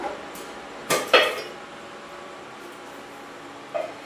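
A metal lid set onto a cooking pot of rice, two quick clanks close together, then a quiet stretch of kitchen hum and a faint rattle at the end.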